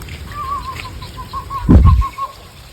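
Birds call outdoors in a rainy setting near a temple, a repeated mid-pitched call running through the clip over soft rain and background hiss, briefly masked by a louder low thump near the middle.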